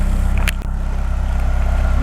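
A car driving out of garage number 13 at a residential garage block, its engine a steady low rumble close by, with a short sharper clatter near the middle.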